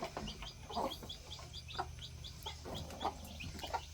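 Hens clucking close by on a small farm with chicks around, repeated short clucks and chirps in an irregular rhythm over a low steady background hum.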